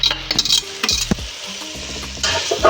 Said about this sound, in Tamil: இந்த மேக்ரோனி எல்லாத்தையும் கிளறிக்கணும்